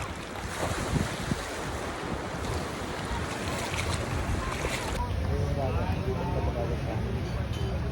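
Sea waves wash along a beach on Boracay Island, with a steady rush of surf, wind buffeting the microphone and a boat's hum in the background, while people talk nearby.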